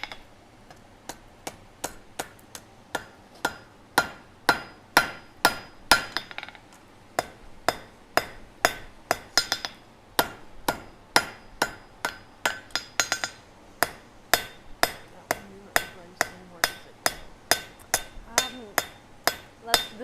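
A hammer strikes an anvil over and over during forging in a gas forge workshop, with sharp metallic rings in a steady rhythm of about two blows a second. The blows are fairly close and carry on throughout.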